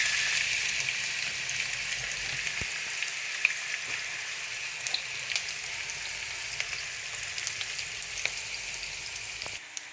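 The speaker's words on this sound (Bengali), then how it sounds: "খিচুড়ি করার জন্য সেখানেও আমি একটু এই কুচি করে রাখা পেঁয়াজগুলো দিয়ে দিচ্ছি" Chopped onions fry in a pot for khichuri, a steady dense sizzle and crackle running throughout with a few small pops and clicks, close and even, with no voices.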